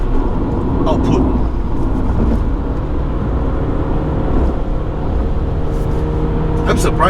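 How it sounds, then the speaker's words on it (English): The non-turbo petrol engine of a 2019 Hyundai Santa Fe seven-seater hums and revs steadily from inside the cabin while someone talks over it. "The engine revs, but that's no choice because it's not a turbocharged car"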